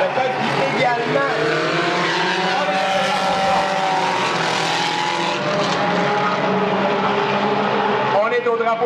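A race car spins on a circuit, its engine droning loudly with tire squeal and skidding throughout, while a commentator talks excitedly over it.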